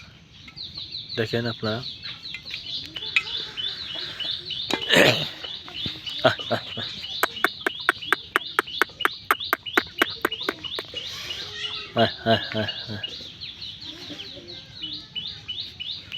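A bird calls repeatedly in rapid, rhythmic bursts, loud and close, with clucking notes and a person talking briefly over it.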